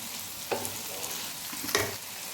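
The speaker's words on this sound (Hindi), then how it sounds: "इसको मैं थोड़ी देर फ्राई करती हूँ" Two hundred grams of sliced cabbage fry in a pan for a vegetable macaroni, giving a steady close sizzle with two brief louder stirring scrapes.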